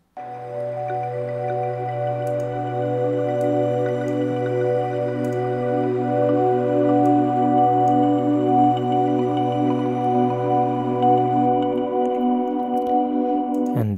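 Finished granular pad made from marimba samples, layered with heavy reverb and an ambient bed, sustains a warm, droning chord for many seconds, steady and full, with a low bass tone dropping out near the end.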